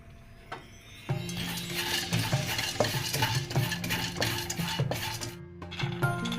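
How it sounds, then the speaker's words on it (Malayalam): Pumpkin seeds roast in hot ghee in a pan, stirred with a spoon that scrapes and clatters against the metal in quick, uneven strokes over a soft background sizzle. "അടുത്തതായിട്ട് ഞാൻ കുറച്ച് പംകിൻ സീഡ് ചേർത്തിട്ട് അതൊന്ന് റോസ്റ്റ് ചെയ്തെടുക്കുന്നുണ്ട്."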